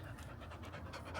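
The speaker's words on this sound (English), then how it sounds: "And that's the dog." Dog panting on a walk around Ventnor on the Isle of Wight, quick steady breathy huffs, close and continuous but quiet, with no talk.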